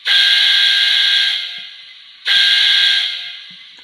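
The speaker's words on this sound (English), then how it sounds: "Playable whistle." A Soundtraxx Econami DCC sound decoder in a Hornby A4 model locomotive plays a steam whistle, two loud sustained blasts, the first about a second and a half and the second shorter, each tailing off, with nothing else heard.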